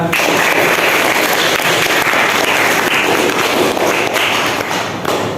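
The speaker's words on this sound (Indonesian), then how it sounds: "tepuk tangan dulu buat teman kalian" Classmates in an Islamic religious education classroom clap for a fellow student, a dense, steady burst of hand claps lasting several seconds before tapering slightly at the end.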